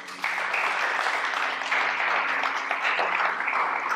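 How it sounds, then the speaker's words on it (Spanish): Church congregation applauding steadily for about four seconds, a dense, continuous clapping that starts abruptly and holds at an even level with no voices on top. "Démosle un aplauso al Señor."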